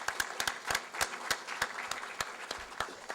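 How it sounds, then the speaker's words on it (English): An audience claps for members of a local economic committee drawn from city, county and private sector, a steady burst of close applause with sharp individual claps standing out, no talking over it. "I'd first like to give them a round of applause for being a part of the committee"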